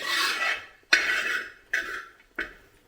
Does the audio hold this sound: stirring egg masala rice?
yes